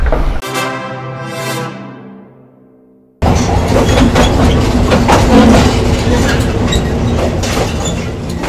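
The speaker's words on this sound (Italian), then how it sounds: "Da Bangkok abbiamo preso il treno per Ayutthaya." A train rolls along the rails between Bangkok and Ayutthaya, Thailand, with a steady, loud rumble and rattling clatter, preceded by a fading tonal hum before the noise cuts in.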